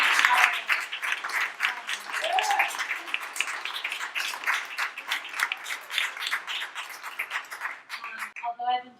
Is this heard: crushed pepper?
no